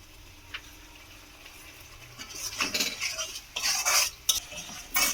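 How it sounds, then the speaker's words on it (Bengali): Spice paste is stirred and fried in a pan while a utensil scrapes and clatters against the metal, the stirring bursts growing louder and more frequent over a soft sizzle, with no talk. "দিয়ে খুব ভালো করে আমি মশলাটাকে এইভাবে আমি কষিয়ে নেব"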